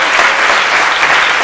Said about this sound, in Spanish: esta vez le damos un aplauso sin que él nos lo pida